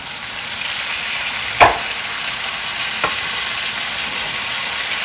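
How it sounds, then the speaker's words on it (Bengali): Water poured over onion and chili fried in oil gives a loud, continuous close hiss of steam and sizzling, with a sharp clack of a utensil and a fainter tap later. "পেঁয়াজটা মরিচটা খুব ভালো করে ভাজা হয়ে গেছে এখন আমি এতে দিয়ে দিচ্ছি একটু পানি"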